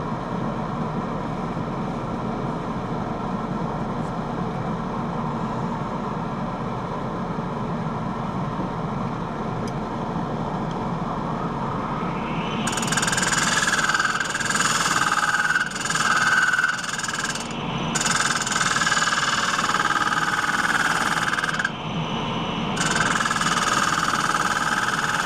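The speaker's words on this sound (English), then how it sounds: "I go down about an inch or so at one time with a scraper, finish with a gouge, and then continue down with the scraper." Steel scraper cutting into a wet cherry bowl spinning on a wood lathe, a steady near hum and rumble that turns into a louder, brighter scraping hiss partway through and keeps going with short breaks.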